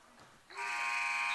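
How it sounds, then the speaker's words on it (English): An electronic buzzer sounds at a women's college basketball game to end the first quarter, starting after a brief lull and holding as a loud, steady, sustained tone through the rest of the moment. "Nunez drives it, back out Howard at the buzzer."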